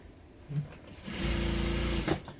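A sewing machine stitches the hood of a hoodie-style anorak with a short handling bump first, then a steady close mechanical whir for about a second before it stops.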